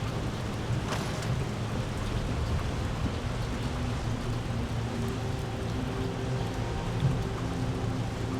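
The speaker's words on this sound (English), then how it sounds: "Rain's only getting stronger at this point." Steady rain pours down in a constant hiss in the video game Elder Scrolls Online, with a low rumble underneath and no voices.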